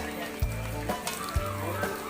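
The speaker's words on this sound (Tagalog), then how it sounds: "Yung parang napiprito-prito natin siya." Bopis sizzles and crackles in a pan, with a couple of sharp clanks of a utensil stirring against it.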